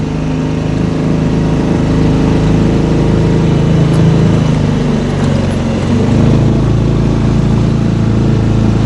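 A steady, loud boat motor drones continuously at close range on a taiga river, a low rumbling hum with no pauses and no voices.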